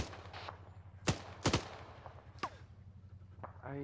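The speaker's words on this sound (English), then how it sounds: "I'm hearing some gunfire over from the town we were in." Sharp gunshots in the military video game Task Force Jormungandr crack in a few scattered bursts from a nearby town over a low engine-like hum, mid-distance and fairly loud.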